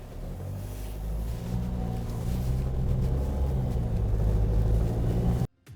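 A JAK T9 pickup truck pulls away with a steady low engine rumble that builds slightly and holds close and loud, then cuts off abruptly at the end.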